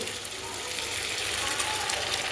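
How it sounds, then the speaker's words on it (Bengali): Hot water hits fried spice paste in a pan for a Bengali pabda fish curry, setting off a loud, dense, steady hiss of sizzling and bubbling that fills the short stretch, close by and without talk. "আমি এখানে জল দিয়ে দেবো জলটা গরম জল দিচ্ছি"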